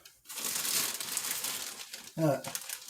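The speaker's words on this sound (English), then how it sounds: "plastic bag, Ziploc bag, or whatever kind of bag I've got going at the time, and open it up" A plastic Ziploc-style bag crinkles and rustles steadily as it is handled and opened in a kitchen, with a louder crunch of plastic near the end, close to the mic and with a voice partly heard.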